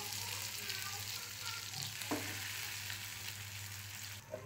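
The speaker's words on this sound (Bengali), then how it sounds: "এদিকে আমি আলু ভর্তাটা একটু ভেজে নিব" Mashed potato (alu bhorta) frying in a pan gives a quiet but steady close sizzle, with a couple of brief stirring scrapes partway through and no voices.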